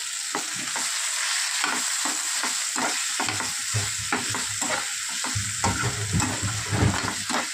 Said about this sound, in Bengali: আদা রসুন বাটা দিয়ে একটু নেড়ে চেড়ে নেবো।